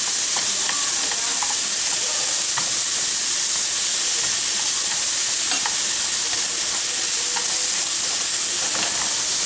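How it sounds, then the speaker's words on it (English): Sliced carrots for kimbap sauté in a hot pan, giving a steady loud sizzle and hiss with occasional stirring scrapes and no talk. "We're just sauteing it, we're not caramelizing it or anything."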